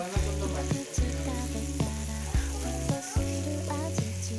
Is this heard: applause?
no